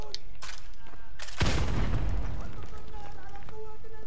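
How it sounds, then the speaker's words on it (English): A grenade detonates in Call of Duty: Modern Warfare Remastered, a loud booming blast that rolls off over a couple of seconds, with voices talking around it. "Grenade."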